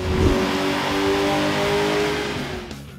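A 2006 Ford Mustang GT V8, still running its stock intake, revs hard and loud, holding a strong steady engine note for nearly three seconds before dropping off at the end.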